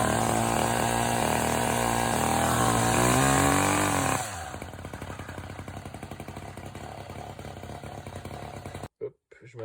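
A small two-stroke hedge trimmer engine, choke closed, catches after a pull start and runs with a loud steady buzz that drops into a rougher, lower idle before cutting out abruptly near the end.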